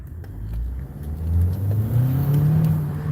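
A 2014 Ford Escape's small turbocharged four-cylinder revs up close by, its engine note climbing steadily in pitch and loudness with no talking.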